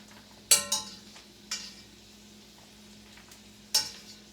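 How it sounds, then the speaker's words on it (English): A few sharp stirs and scrapes of vegan ground-beef substitute in a frying pan, with a light sizzle underneath, spaced out and fairly close. "You hear it sizzling here."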